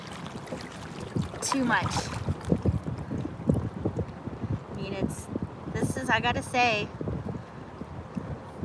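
Wind gusts buffet a Wilderness Systems Tarpon kayak on choppy water, rough low rumbling bursts under someone talking close by.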